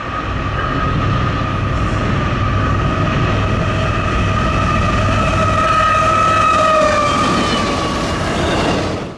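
A Norfolk Southern freight train, NS-264, led by BNSF locomotives, roars past at night on the Chicago Line, loud and close, with sustained horn-like tones over the heavy rumble of the train and wheel noise.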